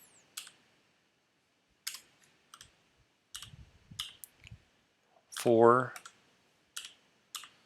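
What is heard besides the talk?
typing on a computer keyboard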